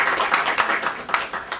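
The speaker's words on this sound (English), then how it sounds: "how about a round of applause for them?" Applause from an audience honoring recognized guests at a West Point sociology honor society induction ceremony, a steady crowd of clapping hands with uneven bursts, fairly close and moderately loud throughout.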